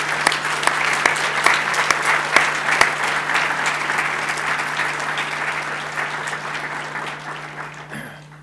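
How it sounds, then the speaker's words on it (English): Audience at an awards event applauding, a dense, steady wash of clapping with a few sharper nearby claps, tapering off toward the end. "all of these individuals deserve a round of applause"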